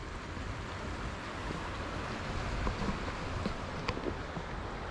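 Maurice Creek Falls near Hudson's Hope, BC, gives a steady broad rush of falling water that fills the whole clip evenly, loud and constant with no speech over it.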